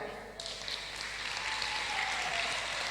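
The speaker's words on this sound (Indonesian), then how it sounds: "Tepuk tangan untuk Tuhan Yesus." A church congregation applauds during a sermon, a dense, sustained clapping from many people filling the room, fairly loud and continuous, with no speech over it.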